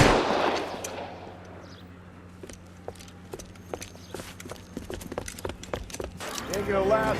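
Gunfire in the video game L.A. Noire, a string of sharp shots cracking at irregular intervals over a low steady hum, with voices talking at the start and end.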